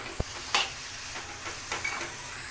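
Ground green chili and garlic paste sizzles in a pan, with a soft steady fry under a few sharp clinks and scrapes of a stirring spoon, close and moderately quiet.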